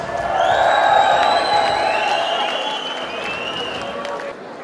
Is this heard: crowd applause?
yes